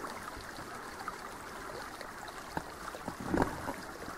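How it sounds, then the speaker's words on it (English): A woodland creek flows steadily near its source among dead trees, a soft, continuous trickle and gurgle with a few brief splashes and a slightly louder burble near the end, no voices. "So that's where the creek comes from."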